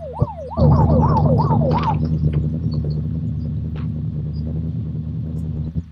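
A wailing ambulance siren in the video game Unturned rises and falls several times, then fades under a loud continuous engine rumble.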